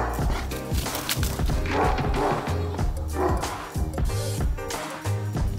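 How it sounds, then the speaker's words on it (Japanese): A dog barks repeatedly nearby as a guard dog, in a steady run of close, loud woofs and yips with little pause between them. "アラン番犬してるよ"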